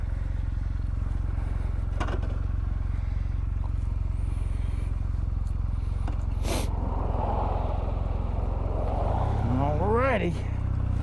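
A motorcycle engine drones steadily at low pitch while riding, with constant wind rush over it and a brief rising rev near the end.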